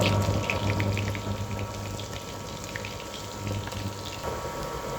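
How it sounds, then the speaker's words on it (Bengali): Food fries in a pan while being turned over for a steamed cabbage curry, a steady close sizzle with soft crackles and occasional movement, no voices. "এখন এগুলোকে আমি উল্টিয়ে পাল্টিয়ে ভালো করে ভেজে নেব"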